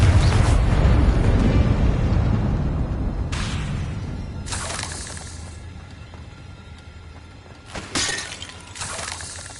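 In the video game Hogwarts Legacy, the Confringo spell goes off as a loud, shattering blast, followed by several shorter bursts and crackling impacts spaced a few seconds apart as the roar fades.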